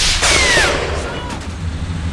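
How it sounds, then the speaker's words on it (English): A gunshot bursts out in the World War II video game Combat Mission: Final Blitzkrieg, one loud close crack with a brief whistling ricochet, fading into a low rumbling tail. "Return fire kills the commander,"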